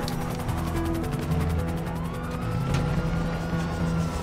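A police siren in the video game GTA V Online wails in rising and falling sweeps over steady engine noise, fairly close and continuous.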